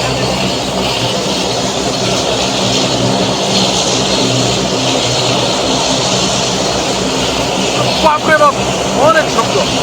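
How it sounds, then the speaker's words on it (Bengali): A Bangladesh Airlines propeller airliner at Barisal airport powers up its engines for departure, a loud, steady, close roar that fills the whole stretch, with brief voices rising over it near the end. "বিমানটি এখনো ছেড়ে যাবে, এর জন্য ইঞ্জিনের পাওয়ার আরো বেশি করে বাড়িয়ে দেওয়া হয়েছে।"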